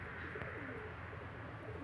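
A pair of pigeons, a female and a male, coo softly nearby in repeated low, rolling calls over a faint steady background hum.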